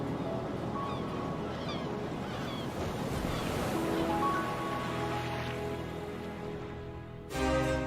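Sea waves surge and wash continuously under steady wind, a broad rushing wash that swells and fades, with a brief louder burst near the end.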